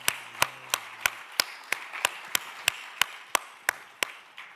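Steady, evenly spaced sharp claps, about three per second, crisp and fairly close, from an audience applauding at a breakfast event, with no talk over them.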